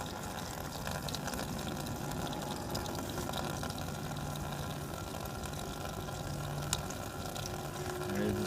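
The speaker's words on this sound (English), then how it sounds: "It's bubbling around the outside as well, getting lots of good pressure to it." Apple juice runs from a cider press while scrumpy is being made, a steady close gurgle and trickle over a low mechanical hum.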